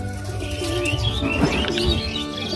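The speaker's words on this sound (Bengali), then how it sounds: "আর একটা কবুতর ছাড়বো ফ্লাইংয়ের জন্য" Pigeons coo and chirp nearby in a rooftop setting as a male pigeon is released to fly, with soft overlapping calls and faint rustling.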